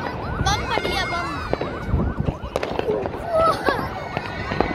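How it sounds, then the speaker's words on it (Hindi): New Year firecrackers and bomb-type explosions going off in the street, repeated sharp bangs and crackles amid whistling, with excited voices shouting and talking over the blasts. "कितना बड़ा एक्सप्लोजन बम पड़ गया बम"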